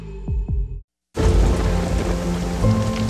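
A thunderstorm with rain: a brief silence gives way to a steady, dense roar of rainfall with low rumbling underneath, loud and close.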